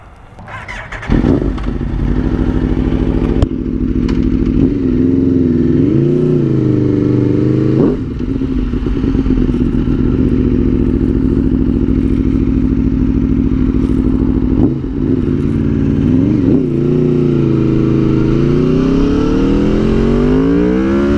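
An Aprilia 1000cc sportbike engine idles and revs up repeatedly, a loud, close rumble that rises in pitch and falls again several times over a steady running note.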